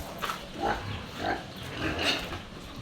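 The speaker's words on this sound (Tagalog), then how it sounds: "Nangihingi na po ito ang baboy." Pigs on a small Filipino backyard farm squeal and grunt for food just before being fed bran mixed with feeds, several rising calls in an uneven rhythm, close and moderately loud with no talk.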